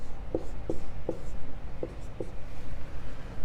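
Pen or marker strokes writing out a radical math expression, five short separate scratches at an uneven pace, close and fairly quiet, with no talking.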